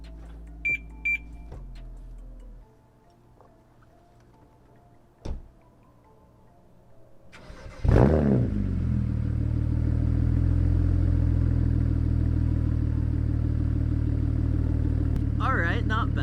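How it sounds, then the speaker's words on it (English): A BMW 535xi with the N54 engine and stock exhaust does a warm start. Faint chimes and clicks come first, then the starter cranks and the engine catches with a sharp rev flare before settling into a steady, fairly loud idle. "a warm start on the exhaust to hear what it sounds like"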